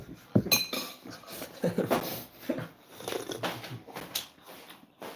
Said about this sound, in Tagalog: Alam mo naghahalo ng kutsara.